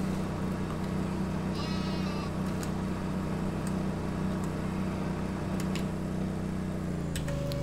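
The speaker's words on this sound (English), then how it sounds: "because I do have 100 sheep, so I'm trying to keep them fed" Sheep bleating in the video game Farming Simulator 2013 over a steady, loud droning machine hum, with a few short bleats rising above the constant engine noise, no talking.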